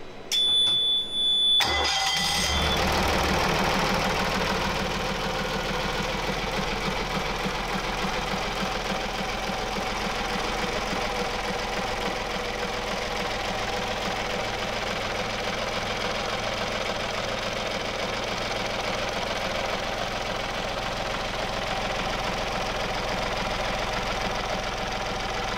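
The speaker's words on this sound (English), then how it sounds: "The outcome was an even better behaved engine." A Bukh marine diesel engine on a converted lifeboat starts with a brief clatter, then settles into a steady, even idle with a rhythmic knocking beat, running alone and close for the rest of the time.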